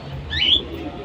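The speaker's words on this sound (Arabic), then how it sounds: "وادي الطير" A red Alexandria pigeon gives a short coo, close and moderately loud, rising briefly over a low background hum.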